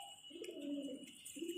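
Pigeon cooing near a temple with plants and seated deities, low soft coos in two stretches over steady background hum.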